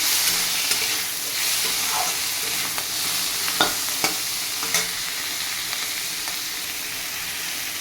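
Chopped tomatoes sizzle and hiss in a hot frying pan while being stirred, with occasional light scrapes and clicks of the utensil against the pan over a steady frying bed.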